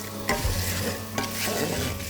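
Sugar is sprinkled over caramelised onions frying in a pan, giving a steady close sizzle with a couple of brief scraping stirs, no voices.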